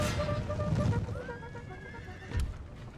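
Cavalry horses in the Napoleon Total War video game, a loud whinny rising over battle noise and hoof clatter, followed by a second neigh, with no speech.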